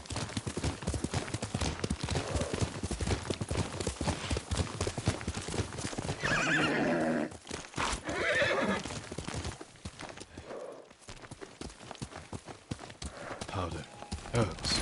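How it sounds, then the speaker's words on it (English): Horse galloping in the video game Ghost of Tsushima, a dense rapid run of hoof clip-clops with a whinny, loud and close, continuing throughout alongside intermittent talk and game sounds. "Yuriko's horse."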